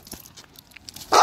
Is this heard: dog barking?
yes